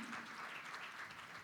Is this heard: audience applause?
yes